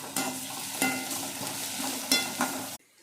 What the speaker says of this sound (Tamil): வெங்காயம் செவக்க வதங்கிடுச்சு.